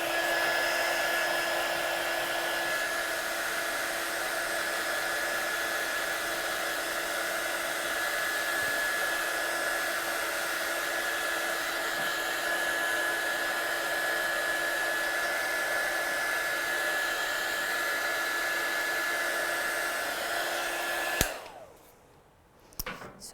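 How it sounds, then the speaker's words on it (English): A heat gun blows steadily and loudly for about twenty seconds, drying a freshly stamped, watercoloured card, then cuts off abruptly, leaving near silence with a few small handling sounds. "Just going to put my heat gun over it quickly."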